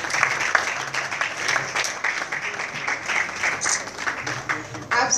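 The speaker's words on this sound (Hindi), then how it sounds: "तालियां यूं ही बजती रहनी चाहिए।" Sustained applause from a large audience at a Hindi-language ceremony honouring a humanitarian, a dense steady wash of claps with a faint voice underneath throughout.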